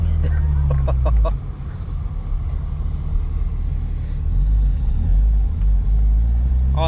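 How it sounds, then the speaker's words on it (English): A turbocharged Bajaj Pulsar motorcycle engine rumbles and revs loudly up close, its deep drone swelling as the turbo spools, with voices speaking over it. "It was spooling so much faster just there."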